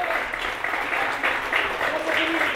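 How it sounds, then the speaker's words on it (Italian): Crowd applause at a Mazara versus Monreale football match as a substituted player leaves the pitch, a distant, even patter of clapping from the stands with a faint voice running over it. "Tanti applausi per Giorgio Pizzolato che lascia il terreno di gioco al 74esimo minuto"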